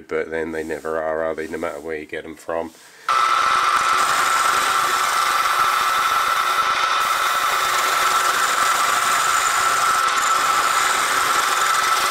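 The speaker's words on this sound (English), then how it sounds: "the first thing I'm going to do is to machine the base off" Machining the base of a miniature petrol engine part produces a loud, steady, close grinding whine of a power tool that runs continuously after someone briefly speaks at the start.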